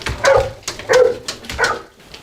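A dog barks close by, four sharp, fairly loud barks with short gaps between them, alone with no talking.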